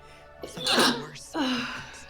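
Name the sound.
sneeze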